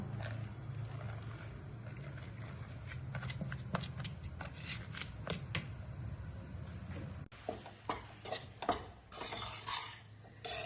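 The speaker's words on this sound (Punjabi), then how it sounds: "ਲਓ ਜੀ ਆਟੇ ਨੂੰ ਆਪਾਂ ਇਸ ਤਰ੍ਹਾਂ ਚੰਗੀ ਤਰ੍ਹਾਂ ਭੁੰਨ ਲੈਣਾ" Wheat flour roasting in ghee in a pan, stirred with a utensil: steady soft scraping and sizzling, then sharper metallic clinks and scrapes against the pan toward the end, close and fairly quiet.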